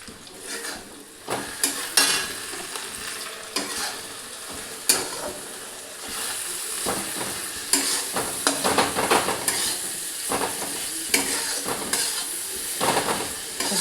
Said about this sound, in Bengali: ভালো করে মশলাটা একদম কষিয়ে ভেজে নিতে হবে